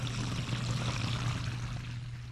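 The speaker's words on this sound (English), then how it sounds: "Can you hear that water?" Washing machine drain water runs into a new vertical soak-away drain, a soft, continuous flow and trickle with a steady low hum beneath it, faint and without speech.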